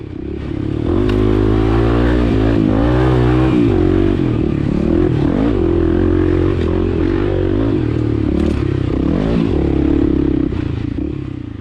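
Kawasaki KLX300 dual sport motorcycle racing through a hilly harescramble course, its single-cylinder engine droning loud and close throughout with repeated revving swells and gear changes, plus clattering and scraping over rough terrain.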